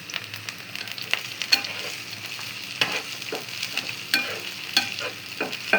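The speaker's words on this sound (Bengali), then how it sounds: "এখন সুন্দর মতো এটাকে ভেজে নিব" Onion, garlic, dried chili, cardamom and bay leaf fry in hot oil in a pan, a steady close sizzle broken by repeated scraping strokes of a spatula, with no voices.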